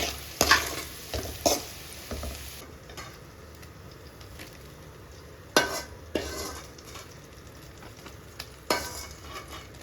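Bitter gourd frying in oil in a pan, a steady close sizzle broken by a few sharp scrapes and knocks of a spoon stirring the slices, with no voices.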